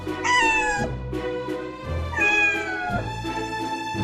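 A black cat gives two long, loud, close meows with a wavering, falling pitch, separated by a short pause, over a low musical background.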